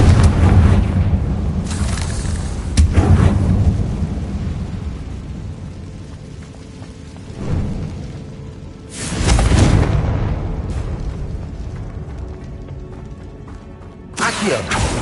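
Confringo blasting spell in Hogwarts Legacy, several deep booming explosions spread across the stretch, each a loud rumbling burst that slowly fades, with quieter rumbling gaps between.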